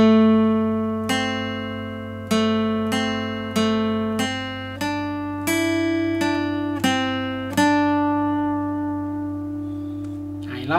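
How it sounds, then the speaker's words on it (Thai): Simple single-note guitar intro solo for a Thai song, played slowly and clearly as a lesson, each plucked note ringing out in steady sequence over about a dozen attacks, with no talking. "รอบนี้ก็จะมีแต่เสียงกีตาร์นะครับ"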